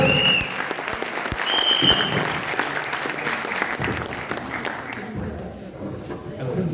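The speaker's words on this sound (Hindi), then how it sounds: "ताली बजा के प्रूव कर दीजिए कि मैं दे दूंगा।" An audience at a life-changing program meeting in Prayagraj claps loudly and continuously, a dense crowd applause with a few voices mixed in, easing slightly toward the end.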